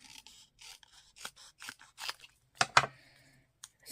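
Scissors snipping through paper for a mini journal, a series of short close cuts, sparse at first, then two louder crunchy snips, with no talking.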